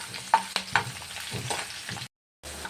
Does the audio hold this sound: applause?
no